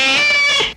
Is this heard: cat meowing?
yes